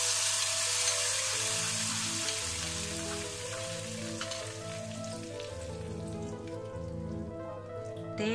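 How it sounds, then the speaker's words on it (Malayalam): Hot Kerala-style tempering of curry leaves and onion poured into green gram (cherupayar) curry, a loud, steady sizzle and crackle that fades slightly as it settles, with no talking. "ചെറുപയർ കറിയിലേക്ക് വറുത്തിടുകയാണ്"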